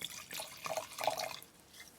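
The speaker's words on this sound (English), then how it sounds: "And I'm going to pour the first one." South African Pinotage wine poured into a gin glass gives a faint, close splashing trickle that swells briefly then fades, with no voices.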